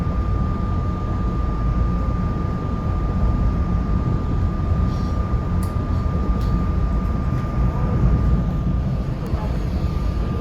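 An Amtrak train rumbles steadily past Girard interlocking near Philadelphia's 30th Street Station, a loud continuous roar with a faint steady whine running through it.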